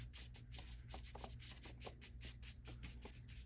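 A dry baby goat hair hake brush rubs over sketchbook paper to blend watercolor, a soft rhythmic swishing of quick repeated strokes, faint and close, with no voices.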